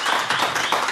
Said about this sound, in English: So you folks feel more than happy to clap and let everyone know that there is a live audience here